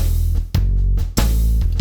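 Alesis SR18 drum machine playing its Blues 1 preset pattern with a bass line underneath, a loud, steady groove of sustained low tones broken by a few sharp percussive hits, with no voices.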